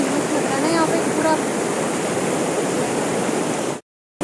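The waterfall at Maldevta roars close by as a loud, dense, unbroken rush of falling water, with a brief voice faintly under it, before cutting to sudden silence near the end.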